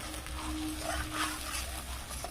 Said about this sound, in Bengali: এবার মশলাটা কিন্তু এবার ভালো করে কষতে হবে